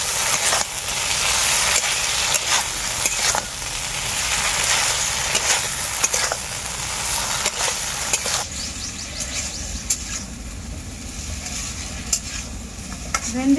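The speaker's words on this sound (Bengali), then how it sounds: "ভেন্ডির সাথে মশলাটাকে আমি অল্প কিছুক্ষণের মতো কষিয়ে নেব।" Okra stirred with spices in a hot pan, a steady dense sizzle with scraping spoon strokes, loud and close, easing to a quieter crackle near the end.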